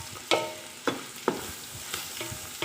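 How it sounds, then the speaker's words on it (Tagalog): Carrot and tomato being stirred into a spaghetti bolognese sauce make four or five distinct scraping, clacking spoon strokes over a soft low sizzle, close up and fairly quiet. "ihalo na natin yung carrot tsaka kamatis. Ihalo natin, halo"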